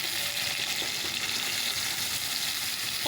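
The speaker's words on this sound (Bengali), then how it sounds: "করলা ভাজি হবে করলাগুলো দিয়ে দিই চলো" Sliced bitter gourd frying in a pan, a steady, close hiss and sizzle of oil that holds even throughout, with occasional faint clinks and no talking.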